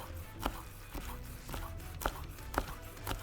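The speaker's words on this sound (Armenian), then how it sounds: "Այսպես մանր կտրատում ենք։" A knife finely chops green onion on a cutting board in a quiet kitchen, with six evenly spaced sharp taps roughly every half second, close and faint.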